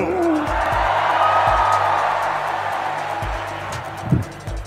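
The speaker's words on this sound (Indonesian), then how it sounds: "disambut dengan tepuk tangan meriah" Large crowd applauding and cheering for President Prabowo at a Ministry of Social Affairs event, a broad steady wash of clapping and voices with a few whoops, lasting throughout.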